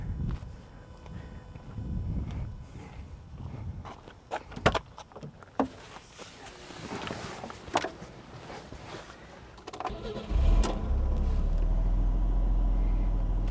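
A 1966 Mercedes-Benz 300SE (W112) engine cranks with several sharp clicks and bursts, then catches and settles into a loud, steady idle that carries on to the end.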